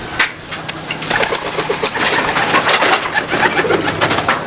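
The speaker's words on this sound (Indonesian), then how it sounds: "ada merpati pos di dalam" Homing pigeons coo in a loft: several birds give overlapping, throaty rolling coos close by, loud and continuous, with rustling and occasional wing shuffles in the background.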